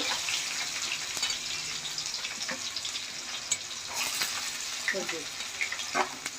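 Onions frying in hot oil along with green chilies and curry leaves, a steady soft sizzle with faint crackles and a few sharper pops and stirring scrapes near the end, for a Telugu fish curry with raw mango.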